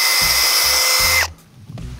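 A power drill bores a new hole for deer fence installation, a loud steady whine that runs for just over a second and then cuts off abruptly, followed by faint handling noises.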